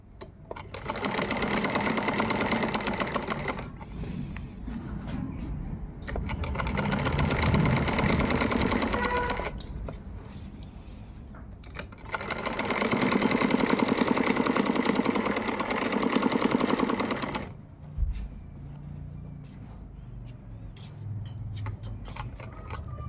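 A sewing machine stitches a circle frock in three long runs of fast, rhythmic whirring, separated by short pauses in which a quieter motor hum and faint handling sounds remain.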